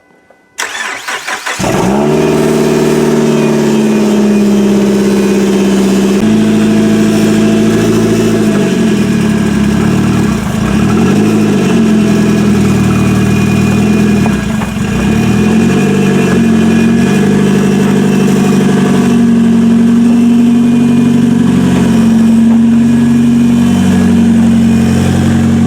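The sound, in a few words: 2005 Mazda 3 derby car engine running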